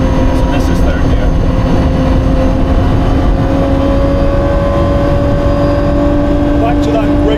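The Gordon Murray T.50 runs steadily in third gear, a loud sustained engine drone with a high whine layered over it, heard continuously from inside the car.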